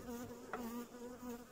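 Honeybees hum at a hive as two colonies are merged in spring, a close, steady buzzing drone with slight wavering and no talk.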